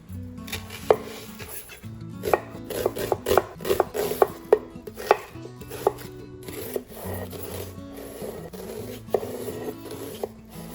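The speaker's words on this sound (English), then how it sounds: "And then we're going to dice our onion." Repeated sharp knife chops on a cutting board as an onion is diced, irregular bursts of quick taps with brief pauses, close and fairly loud over a low background hum.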